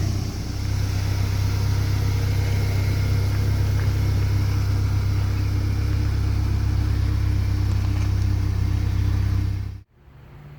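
A 1996 Ford Ranger mini truck engine runs loud and steady with a deep, constant low rumble throughout, then cuts off abruptly near the end, leaving near silence.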